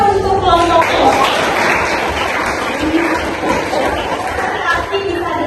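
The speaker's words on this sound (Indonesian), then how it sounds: "Tepuk tangan untuk kelompok kelompok." Classroom audience applauding the student groups at a teacher-training lesson, a dense, steady wash of many hands clapping with some chatter and laughter mixed in, sustained throughout.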